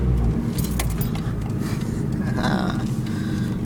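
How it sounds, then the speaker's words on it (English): A car with its exhaust blown right off rumbles loudly and continuously with a deep, rough idle and some surging, close up and outdoors at night. "car sounds unusually angry tonight."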